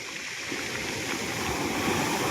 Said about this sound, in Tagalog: malaki ang alon